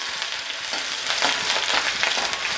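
Garlic and ginger fry in hot oil with curry leaves for an egg curry, making a brief, continuous crackling sizzle that swells slightly partway through, close and alone.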